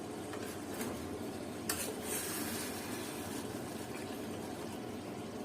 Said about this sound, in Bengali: এই যে সানরাইজ দিয়ে ভালো করে নেড়ে নামিয়ে নেব।